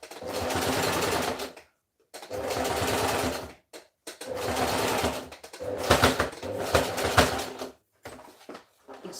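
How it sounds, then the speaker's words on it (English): A home sewing machine runs in four or five loud bursts of rapid stitching, stopping and starting with short silent gaps between runs and no talk. "my sewing machine."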